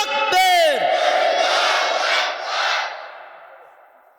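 A large crowd at a religious sermon roars a unified takbir response to the preacher's call. The loud, echoing mass shout swells and then fades away over a few seconds in a reverberant open space.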